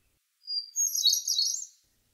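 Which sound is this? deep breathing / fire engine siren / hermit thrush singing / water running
hermit thrush singing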